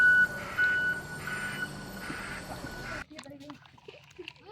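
A truck's reversing alarm beeps in a steady repeating pattern while the truck dumps soil, heard under ongoing talk and a rough rumbling background before cutting off abruptly.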